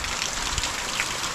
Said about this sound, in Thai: ฝนตกบ่หยุดบ่เซา